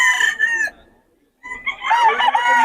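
A young rooster (stag) crows once, then after a brief pause a second loud, close crowing call rises with harsh harmonic tones.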